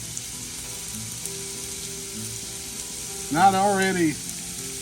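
Glazed Guinness steak kabobs searing in a pan give off a steady, even hiss of sizzling throughout, with someone briefly speaking over it near the end.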